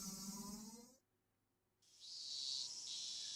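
Cicadas droning in the Higurashi When They Cry video game, a loud steady high buzz that cuts out into near silence for about a second, then returns strong and sustained.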